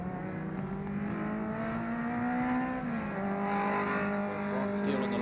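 Race cars at Baypark, including a Nissan Bluebird and a Toyota Starlet, drone past with sustained engine whine and shifting pitch, steady and moderately distant, with a faint commentator voice beneath.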